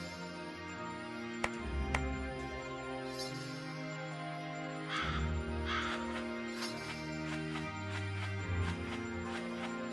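A Kasugai crow caws in the Demon Slayer video game over a steady musical game soundtrack, with several short, sharp caws spread across the stretch.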